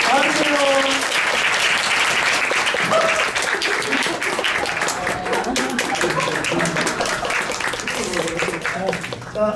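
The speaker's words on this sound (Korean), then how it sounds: "큰 박수로 맞이해 주시기 바랍니다" Sustained audience applause at a theatre curtain call for the closing performance of the play 내일 바다에, welcoming the actors onto the stage; dense, steady clapping fills the whole stretch, with voices and cheers mixed in.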